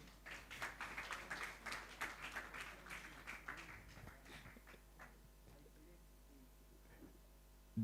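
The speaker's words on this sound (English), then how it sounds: "Another hand clap is in order." A small audience at a foundation launch event in Buganda applauds, the clapping quiet and somewhat distant for a few seconds before it fades out into a low hum.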